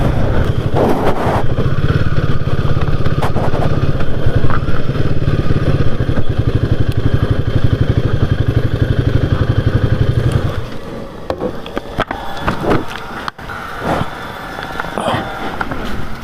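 A Royal Enfield Himalayan 450 motorcycle engine runs loud and close with a steady low rumble, then settles into a rougher idle with clattering and handling noises.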